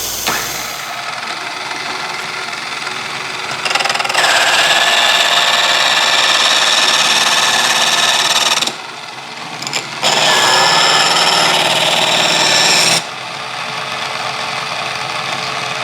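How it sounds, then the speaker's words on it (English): Smith electric sports knife sharpener grinding a knife edge, loud close motor hum with two long bursts of harsher high grinding as the blade is pulled through, separated by brief quieter pauses. "Now we're going to go back in on the Smith electric sports knife sharpener and fine tune it."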